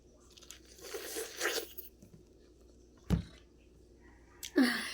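Close, moist chewing of sticky corn with a few soft crunches and bites, quiet between chews, with a sharper crunch near the end.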